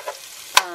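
Garlic frying in a pan is stirred, a soft sizzle under a single quick scrape of the utensil near the end, close and brief.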